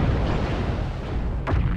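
In MechWarrior Online, a destroyed mech goes up in a heavy, rumbling explosion, a sustained low roar with a sharper burst punching through near the end.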